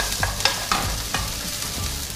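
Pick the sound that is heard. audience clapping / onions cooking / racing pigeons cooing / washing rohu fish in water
onions cooking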